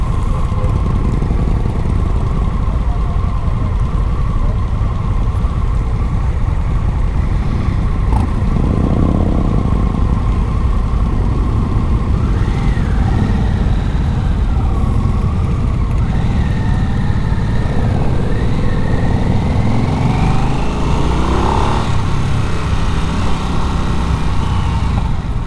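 A 2024 Harley-Davidson Nightster motorcycle being ridden, its engine droning steadily and loud for the whole stretch with wind rush and road noise, the pitch rising and falling as it accelerates.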